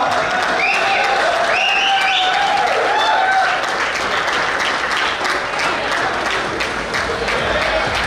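A crowd at an award banquet night applauds warmly, many hands clapping in a full, steady wash, with a few whistles and cheers riding over the top early on before the clapping carries on alone.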